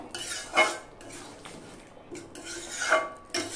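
Spices are stirred into a pan of potato curry for alur dum, with a utensil scraping and clinking against the pan in irregular strokes and a few louder knocks, close up and without talk.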